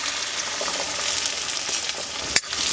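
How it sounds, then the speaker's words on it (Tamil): Garlic frying in hot oil with fenugreek, mustard seeds and dried chillies for poondu milagu kulambu, a loud, close, continuous sizzle with crackling pops and a brief sharp knock near the end. "இதில் பூண்டு தேவையான அளவு வறுக்கிறதுக்கு போட்டுக்கலாம்"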